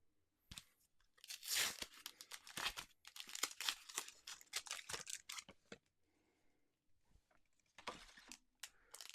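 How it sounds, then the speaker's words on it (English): A foil Pokemon card booster pack is torn and pulled open by hand, giving bursts of crinkling, crackling wrapper noise at close range that come and go over several seconds, faint overall and with no talking. "it's always a good sign when you can't open up the pack"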